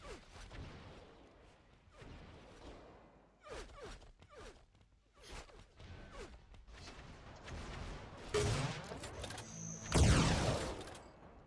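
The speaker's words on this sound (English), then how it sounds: "Rockets coming in all over the place." Rocket explosions in an elimination match of a competitive online video game: a rapid, irregular series of sharp blasts and crashes, growing denser and louder toward the end.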